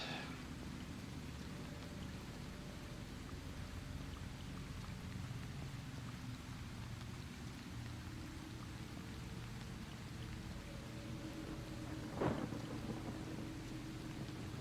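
Steady rain pours through the Stray Souls video game, a continuous soft hiss of drops on surfaces with low rumbling underneath and one sharp crack of thunder near the end.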